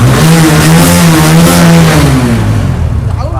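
A second-hand motorcycle engine runs at a steady, loud idle with a deep, thumping beat, then its pitch drops slightly toward the end. It is heard close up with no talk over it.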